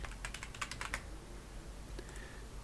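Keys clatter on a computer keyboard in a quick burst of close, light taps, then a pause and a couple more isolated key presses, quiet and without talk.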